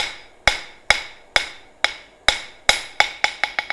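A hammer strikes metal during hand forging, giving sharp ringing blows that start about half a second apart and then speed up into quicker repeated strikes, each with a short metallic ring.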